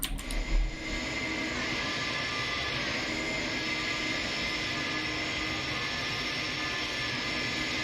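Steady roaring whine of an Airbus A300 jet engine in a flight simulator, a constant loud drone with a high tonal hum layered over broad rumble, holding evenly throughout after a brief thump at the start.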